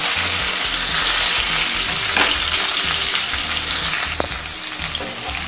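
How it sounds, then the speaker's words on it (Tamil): Onion, curry leaves and green chillies frying in a pan for egg kurma, a steady loud sizzle throughout with a short sharp clink of a utensil near the end, no voices. "இப்போ வெங்காயம் கருவேப்பிலை பச்சை மிளகாய் சேர்த்துக்கிறேன்."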